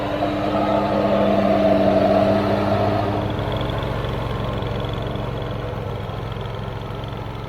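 A zero-turn lawn mower engine running steadily after starting, a continuous mid-pitched drone with a brief rise early on and then an even, slightly fading hum, no speech.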